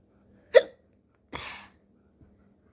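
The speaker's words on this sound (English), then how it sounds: "And also let my hiccups stop." Two sharp hiccups in a quiet room, close and loud, spaced about a second apart, followed by a faint click.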